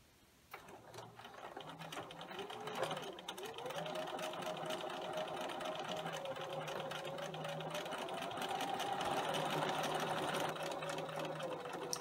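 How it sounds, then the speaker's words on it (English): A sewing machine stitches a half-inch seam around a garden apron, a steady fast mechanical whir running continuously after a brief start, close and alone. "now we're going to go to the sewing machine, and we're going to sew all the way around using a half inch seam allowance"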